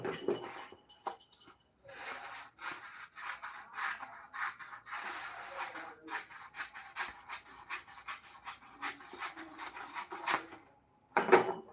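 Scissors cutting paper strips for a DIY summer-camp craft, a run of quick crisp snips and rustling close up, irregular in rhythm with brief pauses.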